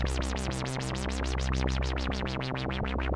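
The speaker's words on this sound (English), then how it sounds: "a DIY synth called the TS-1." TS-1 DIY synthesizer with two main oscillators, a noise oscillator, envelope, LFO and filter plays a rapid, steady pulsing pattern of repeated sweeping notes, loud and continuous, with no voices.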